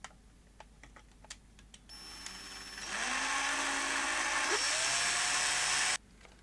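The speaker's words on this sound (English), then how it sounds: "Right, so let's set ourselves up to drill holes out on this one." A small electric drill bores holes into a Sony DCR-TRV120E camcorder, starting after a few seconds of quiet clicks, whining loudly and steadily for about three seconds with a rising pitch before cutting off abruptly.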